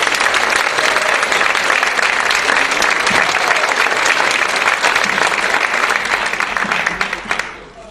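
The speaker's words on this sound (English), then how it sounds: "Give them a round of applause." A large crowd claps loudly and continuously, a dense steady wash of applause that fades out in the final moments.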